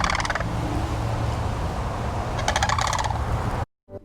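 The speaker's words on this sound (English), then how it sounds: "they can be easily identified by their red face and noisy call" A sandhill crane gives its noisy, rattling call in two bursts, one at the start and one later, over steady outdoor background noise, before cutting off abruptly.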